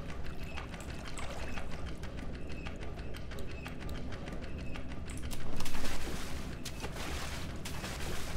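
Water pours and splashes in a video game, a continuous rushing wash with rapid clicking textures and a louder surge midway, heard alone without talk.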